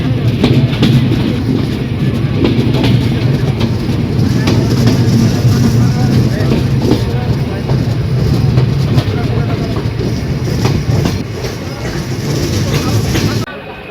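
The Padma Express, an intercity train on the Rajshahi–Dhaka line, entering a station stop with a loud, sustained rumble and wheel clatter that eases off at the very end.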